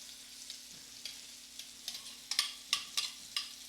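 Onions browning in a pan for elk green chile stew, a soft steady sizzle with a few louder crackles and stirring scrapes near the end.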